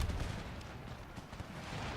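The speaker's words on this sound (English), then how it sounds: "These guys are in a position where we cannot really target them with the straight up artillery. And that's why we have howitzers." Howitzer artillery fire in Empire: Total War heard as a low, dense, continuous rumble of booming shots and gunfire on a battlefield, fairly faint and sustained with no clear gaps.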